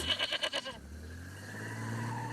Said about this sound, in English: You forgot your goat